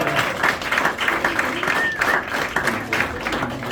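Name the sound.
audience applause at a magic show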